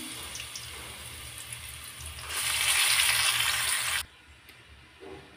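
Olives drop into hot mustard oil with a bay leaf, and a soft background crackle swells into a loud, close frying hiss for about two seconds before cutting off abruptly.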